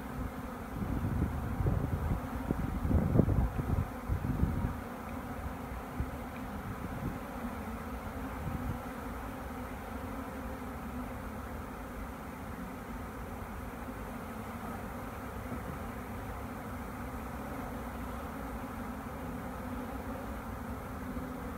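Honey bees buzz at an open hive in a steady low drone, with some handling bumps near the start and faint wind, no talking.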